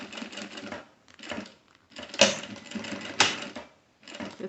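Sewing machine stitching a pocket flap along a marked line, running in several short bursts of rapid mechanical chatter separated by brief pauses, close and clear with no voices.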